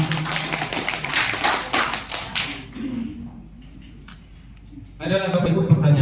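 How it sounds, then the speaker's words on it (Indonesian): Audience applause for Pak Kahadun at an indoor school staff meeting, a dense burst of clapping for a few seconds that fades into quiet murmuring before another swell of noise. "Tepuk tanganlah untuk Pak Kahadun semuanya."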